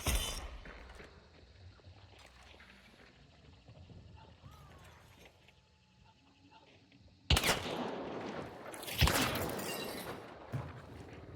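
Hunt: Showdown gunfight with a quiet, tense stretch of faint movement, then loud close gunshot blasts and a heavy burst of fire near the end.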